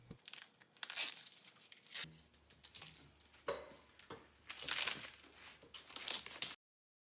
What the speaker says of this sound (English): Peeling off the coating is always my favorite step in the wire stripping process.